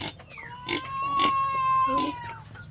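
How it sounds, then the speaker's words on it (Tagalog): Pigs raised on a family farm in the Philippines squeal and grunt close by, with one long, loud, rising and falling cry over about two seconds among shorter grunts. "Yan po mga alaga ni nanay ng baboy."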